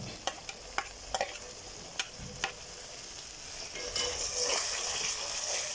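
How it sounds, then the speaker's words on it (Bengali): Spices being fried and stirred in a pan for khichuri, with a few sharp clicks of a spoon against the pan over a soft sizzle that swells into a louder, hissing fry toward the end. "সব এখন একের পর এক দিয়ে সুন্দর করে আমি কষিয়ে নিব।"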